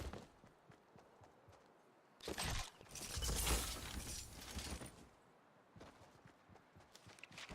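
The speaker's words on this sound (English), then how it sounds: "I can hear footsteps to my right underneath." Footsteps in the Fortnite video game sound as quick, light tapping steps throughout, with a louder noisy crashing burst in the middle, all fairly faint.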